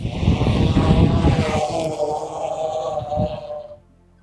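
A thermal search drone flies through strong wind in icy weather, its propellers buzzing under a heavy rushing gust that stays loud before dropping away abruptly near the end.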